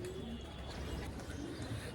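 Large domestic pigeons cooing softly at close range, low repeated coos over a quiet background with faint rustling.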